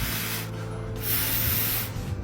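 Air is blown by mouth through a broken car solenoid valve, producing a close breathy hiss in short bursts as it leaks out.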